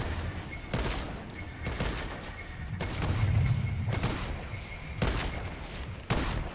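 Bursts of automatic sniper rifle fire in Fortnite, roughly six loud cracks spaced about a second apart with broadband blasts and a low rumble between them, no talking.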